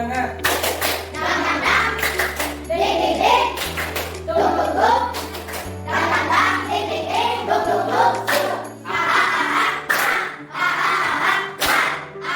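Students stand and perform a rhythmic spirit clap during a classroom ice-breaker, loud patterned clapping bursts in repeated phrases with a steady low tone running underneath.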